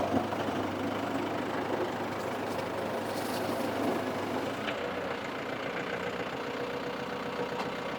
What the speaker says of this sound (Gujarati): હાવ ટૂંકા ટર્નમાં ટ્રેક્ટર વરે છે